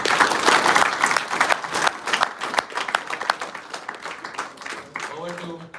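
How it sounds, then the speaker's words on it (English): Audience at an academic symposium on shock waves applauds the speaker, a crowd of clapping hands that starts strong and tapers off, followed by a voice talking near the end. "round of applause for the speaker."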